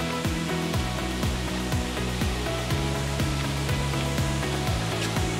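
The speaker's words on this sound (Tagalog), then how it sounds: "Yan na yung Bigaho Waterfalls." Rushing water of Begaho Waterfalls on a hillside stair trail, a steady loud broadband roar that continues unbroken without any voices.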